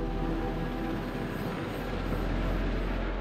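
A steady low rotor and engine drone from a helicopter airlifting a mountain rescue team toward a ridge, heard as constant distant-sounding noise with no talk.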